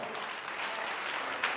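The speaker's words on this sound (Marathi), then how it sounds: "तत्पूर्वी आपण याचा जोरदार टाळ्या वाजवा." An audience claps steadily and densely throughout, a continuous wash of many hands with no talking over it.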